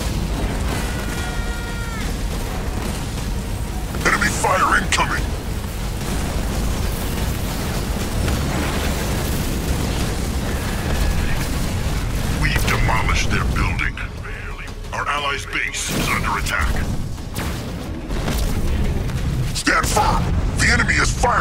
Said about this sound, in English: Fire incoming!